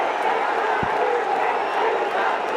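A packed stadium crowd at a one-day international cricket match between Bangladesh and West Indies cheers and roars after a six, a sustained, loud wave of shouting with one low thump partway through.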